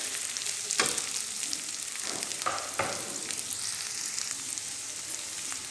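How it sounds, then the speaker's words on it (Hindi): Chopped onions shallow frying for egg vegetable noodles give a continuous bright sizzle, broken by a few louder stirring scrapes early on. "इसको हम शैलो फ्राई करेंगे।"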